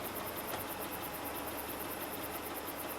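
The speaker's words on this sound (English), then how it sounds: "You can hear the engine" A car engine idling in the dark while a newly wired 24-inch LED light bar is switched on, a faint, steady low hum under a constant high-pitched whine.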